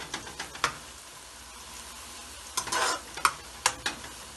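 Onions fry in a little oil for beef paya, a quiet background sizzle with sharp intermittent spoon scrapes and stirring strokes against the pan, no talking.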